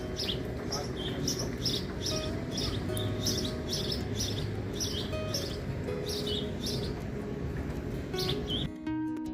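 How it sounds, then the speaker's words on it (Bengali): Small birds chirping outdoors on a foggy cold morning, repeated bright tweets in quick bursts over a low background murmur, moderately distant. "কি সুন্দর পাখির আওয়াজ শোনা যাচ্ছে।"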